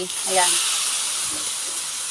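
A pot of bitter gourd, milkfish and tofu in a little salted water comes to a boil with a steady, loud, close hiss. Someone speaks briefly at the start.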